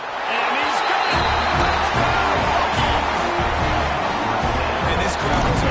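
Roaring stadium crowd noise from a PS5 American football video game, a dense, steady cheer that stays loud throughout under a commentator talking.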